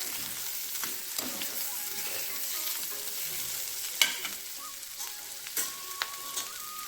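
Water chestnut curry stirred in a pan, a soft steady sizzle broken by several sharp clanks and scrapes of a spoon against the pan.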